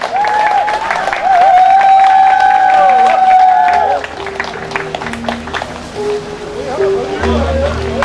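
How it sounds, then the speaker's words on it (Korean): Audience applause and some cheering at an outdoor volunteer event on a mountain, welcoming a poetry reciter, running loud and steady under a voice that speaks in the first half, then continuing more sparsely beneath background noise. "박수로 환영해 주시기 바랍니다."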